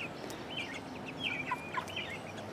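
Young free-range chickens in a city backyard cluck softly, with short, scattered calls over a quiet background.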